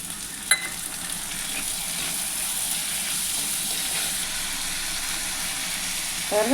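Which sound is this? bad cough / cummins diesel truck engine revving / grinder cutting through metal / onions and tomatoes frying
onions and tomatoes frying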